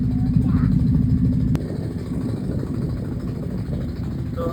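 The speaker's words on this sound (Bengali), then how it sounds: "তো আমাদের বোট বালেদি ব্রিজ থেকে এখন রিসোর্টের দিকে যাচ্ছে।" A motor boat's engine drones steadily while carrying a family from a bridge toward a resort in Rangamati, a low, continuous rumble with a slight drop in level partway through.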